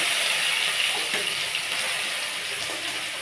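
Potatoes frying in hot mustard oil in a pan, a steady close hiss and crackle with occasional soft stirring clicks.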